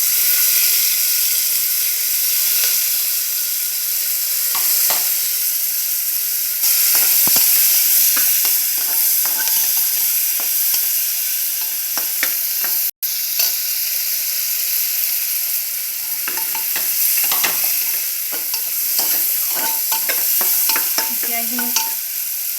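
Onions and chillies sizzle steadily in a hot pan beside potatoes while being stirred for egg biryani, a continuous loud frying hiss broken by scraping stirs, including one brief sharp clack midway.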